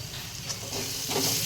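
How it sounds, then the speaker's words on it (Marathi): Chili powder, turmeric and coriander powder sautéing in hot oil for a pigeon pea kachori filling, giving a brief, close, steady sizzle and hiss with faint stirring. "परतून घेते त्याला"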